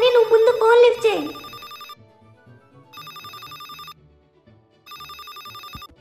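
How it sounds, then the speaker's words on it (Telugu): Phone ringing in GTA 5, a electronic ringtone in repeated bursts of about a second with short silent gaps, loud and close, with a voice speaking over the start. "నీ ఫోన్ రింగ్ అవుతుంది చూడరా, ఎవరో ఫోన్ చేస్తున్నట్టున్నారు"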